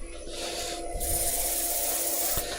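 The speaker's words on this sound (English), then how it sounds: "I'm just going to sand this up to 400 grit" Abrasive sanding rasps against a turned wooden bowl in steady strokes, growing harsher partway through over a faint background hum.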